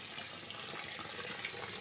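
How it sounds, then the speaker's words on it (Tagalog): Garden hose running into a Bestway Steel Pro above-ground swimming pool with a fairly weak flow, a steady, quiet rush of water that continues unbroken throughout. "Medyo mahina yung tulo ng tubig"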